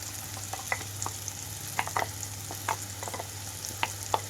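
Green chili paste and ground pepper powder fry with tomatoes in a pan for a spicy pepper rasam, giving a soft, even sizzle broken by small crackles and pops, with no talking.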